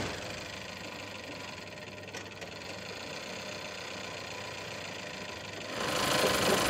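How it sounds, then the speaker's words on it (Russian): A first-generation Toyota RAV4 engine, the 1AZ-FE, runs at idle with a rough, misfiring rhythm: a close, continuous uneven throb that swells noticeably louder in the final second. "мотор начал троить"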